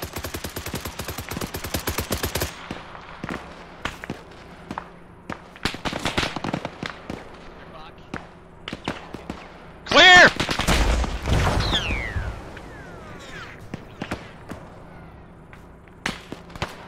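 Gunfire aimed at a tank in the military video game ARMA 3 crackles in rapid, sharp repeated shots and bursts, with a louder blast partway through and some voices under the shooting.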